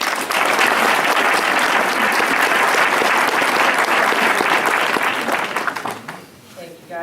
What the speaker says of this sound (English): That applause is wonderful